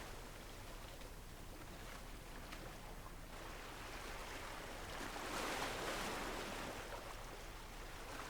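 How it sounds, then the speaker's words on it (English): Steady ocean surf washes in at Pemaquid Point, Maine, a broad continuous roar that swells louder for a few seconds before easing back. "I could listen to this for hours and hours and just watch the waves come in."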